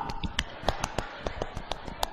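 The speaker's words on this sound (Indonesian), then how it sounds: "tepuk pramuka" Rhythmic scout-style clapping (tepuk pramuka) during a lively religious sermon, a patterned series of sharp, close hand claps in quick irregular groups, about a dozen strikes in two seconds.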